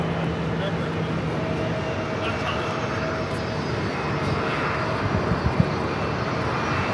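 Airliner taking off at LAX, a distant, steady engine roar with broadband rushing noise that stays fairly even throughout.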